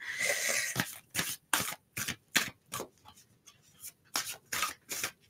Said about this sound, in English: These cards are a bit hard to shuffle because they're no glazed, they're just flat.